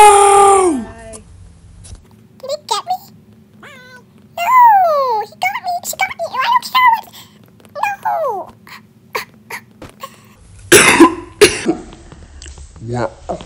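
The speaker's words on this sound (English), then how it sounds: "Pretending to cry apparently makes me cough." A voice makes whiny, wavering fake crying sounds, then a couple of harsh coughs burst out near the end, close and loud.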